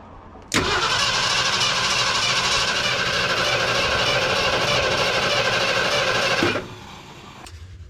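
A 1972 Ford F100 engine cranks steadily for about six seconds without catching, a loud, continuous churning starter drone that cuts off abruptly, leaving quiet behind.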